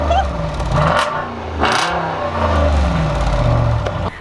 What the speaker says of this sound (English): We've got an SRT behind us, so you just heard that silver one over there